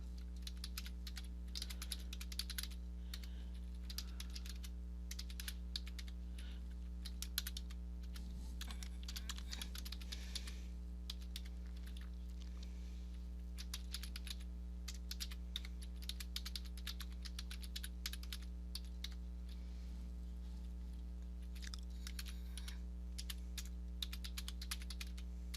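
Steady typing on a computer keyboard while composing an email message in Outlook, a long run of quick, irregular key clicks over a constant low electrical hum, with no talking.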